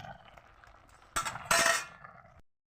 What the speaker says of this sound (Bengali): আমি জলটাকে ছেঁকে নিলাম